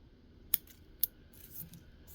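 Scissors trim a Chinese elm bonsai with two quick, crisp snips about half a second apart, followed by faint rustling, all quiet and close.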